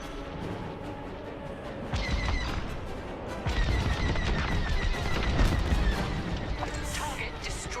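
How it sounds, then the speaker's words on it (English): Rapid laser cannon bursts ring out in the Star Wars Squadrons space combat game, coming as dense rattling volleys that get louder after two seconds, with game voices talking over them. "Your lasers need to recharge."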